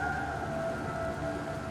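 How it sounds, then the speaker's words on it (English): Steady rainfall in the video game Assassin's Creed Valhalla, set in England, a continuous even hiss of moderate loudness with a faint tonal hum running through it and no speech. "It's raining, of course, because it rains in England all the time."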